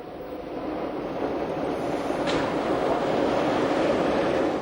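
Steady, even rumble of a Jungfrau railway rack train rolling into Lauterbrunnen station, moderately loud and continuous with a faint high squeal, no voices.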